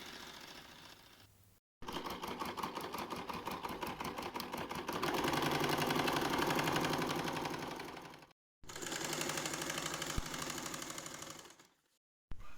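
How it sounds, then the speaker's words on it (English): A sewing machine double-stitches a dog harness made from an old bag with strong thread, running in fast, steady mechanical bursts that stop and restart several times, close and alone without talk. "we just need to double sew everything with the machine with the good strong thread"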